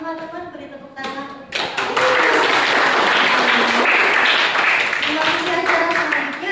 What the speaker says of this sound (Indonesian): Mohon teman-teman beri tepuk tangan